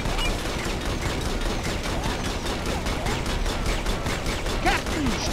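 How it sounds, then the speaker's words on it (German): Enemy gunfire in the video game Ghost Recon Advanced Warfighter, a sustained rapid rattle of automatic weapons with steady rhythmic shots, loud and close, with no talk. "Stehen unter Feindbeschuss!"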